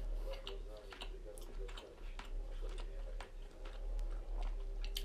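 A mouthful of stuffed squid with tuna being chewed close to the mic, soft repeated wet clicks and squelches in an irregular rhythm, quiet overall.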